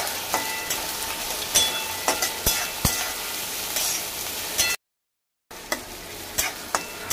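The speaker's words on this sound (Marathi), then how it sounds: "वाटाणे फ्राय करून घेऊया चांगले तेलामध्ये" Green peas frying in hot oil in a pan with onion, chillies and curry leaves, a close continuous sizzle broken by regular scraping stirs and clicks of a spatula, briefly cut to silence before resuming.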